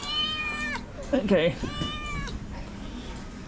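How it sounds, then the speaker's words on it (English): A friendly cat meows repeatedly nearby in an alley in Wuhan, China, drawn-out close mews with a short pause while a person speaks briefly in between. "It's a really friendly cat."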